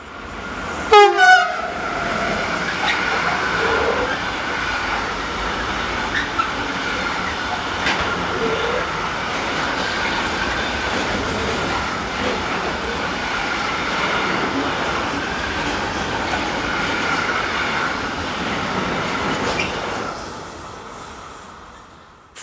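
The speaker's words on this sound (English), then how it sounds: "locomotions Class 193 electric number 193236 heads north with an intermodal working from Budapest to Rheinhausen" Class 193 electric locomotive hauling an intermodal freight train northbound, with a brief horn blast near the start followed by a sustained, steady rumble and wheel noise of the passing wagons that fades near the end.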